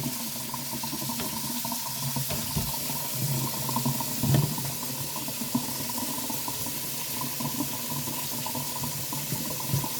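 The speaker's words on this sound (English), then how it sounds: "I just take and rinse off my pasta once I've cooked it" Cooked pasta is rinsed under a running kitchen tap, with water pouring steadily throughout and soft splashes against the sink.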